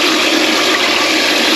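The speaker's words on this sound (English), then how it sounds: "So we're going to run water in from the other end." Water runs steadily from the far end through the air filter of a Eurocompulsion V4 air induction system being rinsed, a loud continuous broadband rush with no talking.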